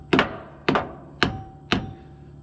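Light hammer tapping a super-tight-fitting part onto a bolt, four evenly spaced sharp metallic taps, close and fairly crisp with a short ring after each.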